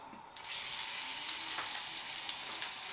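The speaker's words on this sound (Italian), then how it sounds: "in una padella grande andremo a mettere dell'olio d'oliva all'aglio, Accendiamo e andremo a far cuocere i gamberoni" King prawns sizzle in garlic-infused olive oil in a large pan, a steady bright frying hiss that jumps up suddenly and holds loud and close, with small crackles and pops scattered throughout.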